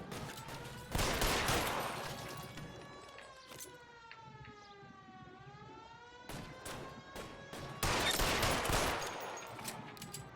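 Gunfire in the video game L.A. Noire, with bursts of rapid shots at the start and near the end and a wailing police siren sweeping up and down between them.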